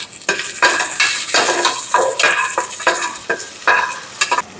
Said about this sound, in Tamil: இப்போ இந்த பூண்டு சேர்த்துக்கிறோம். அதோடய போட்டு வதக்கிக்கிறோம்.